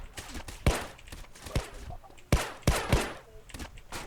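Gunfire in a shooter video game, several sharp cracking shots at uneven intervals, loud and close, with a voice talking faintly in between.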